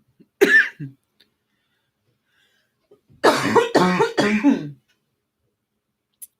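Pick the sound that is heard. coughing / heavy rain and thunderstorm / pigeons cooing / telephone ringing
coughing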